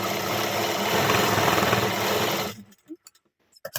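A sewing machine runs steadily and loudly while stitching a blouse front piece with a single strip on top, then stops abruptly, leaving a few soft clicks and handling noises.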